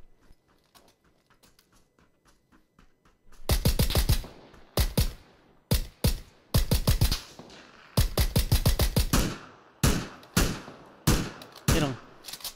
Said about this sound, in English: Hit him twice with the VSS